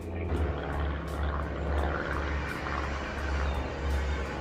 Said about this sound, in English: Can't hear me over that plane.